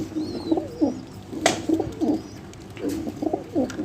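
A female pigeon kept as a breeding bird coos close by in repeated soft, throaty phrases at an even rhythm, with a faint chirp in the background.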